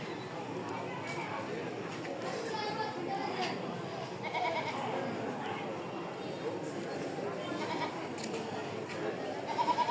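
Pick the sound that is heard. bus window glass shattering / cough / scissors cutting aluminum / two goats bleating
two goats bleating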